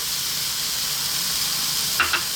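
Onions fry in oil for Ethiopian dulet, a continuous close hiss of sizzling fat with two brief clatters near the end, no talking.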